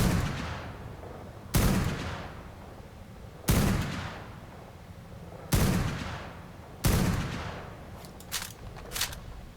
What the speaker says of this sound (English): Alright, boys, have some fun shooting.